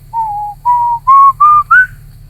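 A person whistles five short clear notes, each a little higher than the last, imitating a strange paranormal noise, close and loud over a low steady hum.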